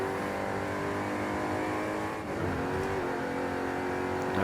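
A race car in Forza Horizon 5 drives onto the motorway mid-race, its engine droning steadily and loud throughout with a sustained revving tone, briefly dipping before climbing again.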